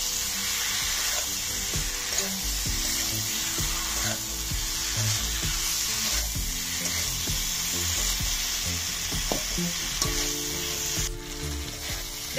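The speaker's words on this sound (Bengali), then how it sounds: "এবারে এটা ভালোভাবে কষে নেব।" Cauliflower and duck egg curry sizzling and frying in spice paste over a wood-fired clay stove, a loud continuous close sizzle with stirring scrapes and occasional clinks throughout.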